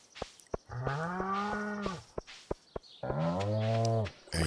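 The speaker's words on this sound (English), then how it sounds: "I hear you, cows." Two long, loud moos from cartoon farm cows in the Stardew Valley video game, each call steady and harmonic, separated by short sharp clicks of game effects, with no talking over them.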